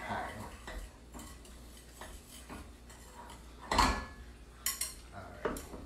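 Dry cornbread ingredients are stirred in a bowl with a utensil, giving faint, irregular scrapes and light clinks against the bowl, with one sharper knock midway, in a quiet room.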